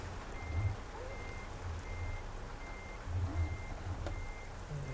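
Truck reversing beeps in Euro Truck Simulator 2: a steady series of evenly spaced, moderately loud electronic beeps repeating over a low engine rumble, with no talking.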